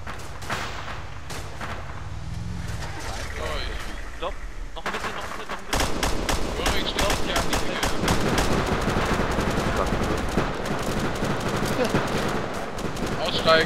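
Gunfire in a war scene near a bunker, dense rapid bursts of shots over a rumbling background that become louder and more continuous after a sudden cut, with no talk over it.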